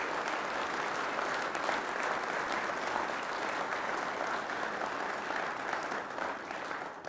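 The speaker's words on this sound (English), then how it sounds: "I hope you can give all of them a big round of applause" Audience giving a round of applause for university graduates at an announcement event, steady, even clapping from a sizeable crowd, moderately distant and continuous, fading slightly at the end.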